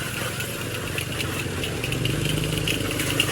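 Motorized tricycle engine on a highway, a steady close mid-pitched rumble with a light rattle that runs unbroken throughout, with no voices.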